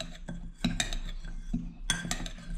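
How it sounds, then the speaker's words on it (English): A spoon stirs a dry mixture of rice and flour in a bowl, giving a few scattered scraping clinks and grainy rustles over about two and a half seconds, close and moderately loud. "we're going to mix this up properly with a spoon over here"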